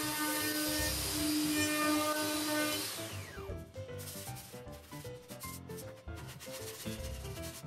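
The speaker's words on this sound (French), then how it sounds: "petit ponçage pour avoir une jolie finition quart de rond tout le tour de ma boîte" A wooden box is sanded around its edges for a rounded quarter-round finish, a dense, loud rasping sweep that fades after about three seconds into lighter, uneven scratchy rubbing.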